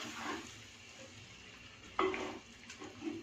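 Boiled chickpeas go into a pan of masala, bringing a soft sizzle, a sudden clatter as they land and light utensil scraping afterward, all fairly quiet.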